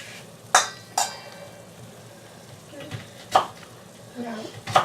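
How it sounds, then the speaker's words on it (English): Vegetables and garlic chopped on a board for a vegetable steak soup: several sharp knife strikes spaced irregularly, fairly close, over a quiet kitchen background with faint clatter. "chop the vegetables"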